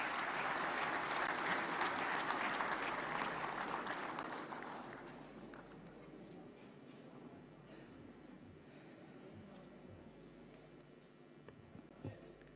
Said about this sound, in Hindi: कृपया तालियों के साथ